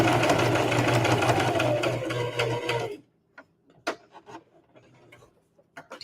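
A sewing machine stitches a keychain wallet in a quick, steady rattling run for about three seconds, then stops; faint clicks and handling noises follow.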